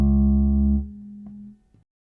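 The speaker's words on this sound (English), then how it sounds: "So let me just show you the dry sound here." A dry bass instrument tone with no effects, a single deep sustained note ringing out and fading over about a second and a half, followed by faint string noise and silence.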